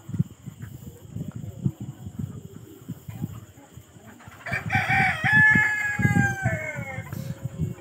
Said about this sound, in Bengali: এগুলো কিন্তু একদম রানিং ডিম পাড়া মুরগি